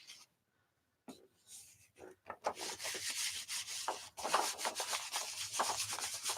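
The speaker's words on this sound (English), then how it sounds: "Kind of rub that down on there and rub this onto here." Paper rubbed by hand onto a gel printing plate gives a close, continuous dry scuffing and brushing, with short bursts of friction after a quiet start and no talk.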